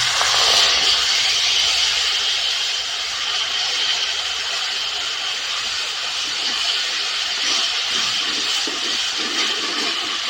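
Spices and other ingredients crackle in hot oil during a tempering for aloo sabzi with maida puris, a steady, loud, hissing sizzle that runs continuously and close, easing slightly after the first second.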